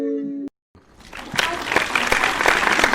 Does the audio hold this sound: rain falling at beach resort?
no